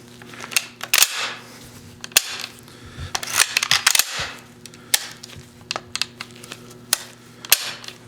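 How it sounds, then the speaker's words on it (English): A rifle's bolt action is worked and locked back during a firearms auction lot preview, producing a string of sharp, close metallic clicks and clacks that come in irregular bursts with no talking. "Action feels good on this one. Locks back."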